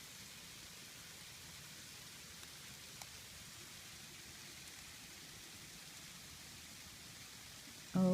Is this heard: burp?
no